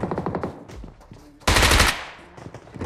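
Video game gunfire rattles out in rapid automatic bursts: a quick string of shots at the start, scattered pops, then a dense, loud volley in the middle, with a voice talking around the shots.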